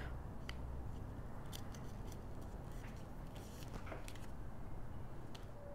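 Scissors snip through cardstock for a greeting card in faint, scattered short cuts, set against a low steady background hum.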